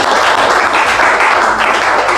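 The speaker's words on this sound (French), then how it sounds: "Il faut déjà que l'on applaudisse pour madame." Loud, close applause from an audience at a trainer-training session, a dense continuous roar of many hands clapping at once, filling the whole brief moment without pause.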